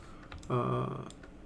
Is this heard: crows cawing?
no